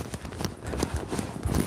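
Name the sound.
horse trotting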